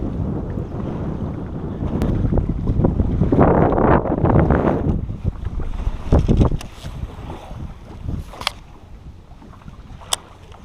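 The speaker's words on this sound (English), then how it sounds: "Wind does not make it easy." Gusting wind buffets the microphone on a fishing boat out on a lake, a loud rumbling roar that swells and fades, with a few clicks and knocks near the boat and no talk.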